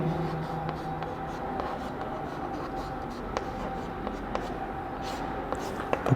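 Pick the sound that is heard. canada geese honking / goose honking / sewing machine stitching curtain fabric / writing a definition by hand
writing a definition by hand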